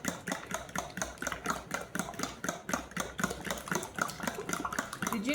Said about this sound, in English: I don't think she's got a whisk, so I'm doing the fork routine